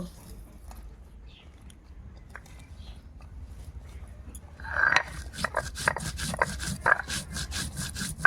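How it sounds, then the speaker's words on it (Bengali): Cumin seeds are ground into a paste on a traditional grinding stone. The rough back-and-forth rubbing grows louder and more rhythmic partway through, with faint voices in the background. "চিংড়ি মাছের মালাইকারি করার জন্য প্রথমে জিরে বেটে নেব"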